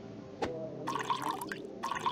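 Liquid pours and splashes in short bursts after a brief click, close by, with gurgling trickles and no talking, in the video game My Town.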